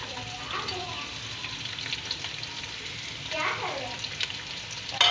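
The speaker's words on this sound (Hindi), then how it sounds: "अच्छे से इसे तेल में फ्राई कर लीजिए। प्याज भी साथ डाल देंगे।" Onions and rice frying together in oil for matar pulao, a soft, even sizzle heard fairly quietly throughout, with a few brief stirring scrapes and no clear talk.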